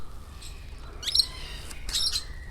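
Chattering lories, Indonesian parrots kept among many other birds in a botanical garden aviary, give two short, shrill squawking calls a second apart at moderate distance, with no talk.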